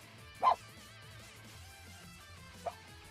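A dog gives one sharp bark followed a couple of seconds later by a softer, shorter second bark, heard faintly behind quiet music.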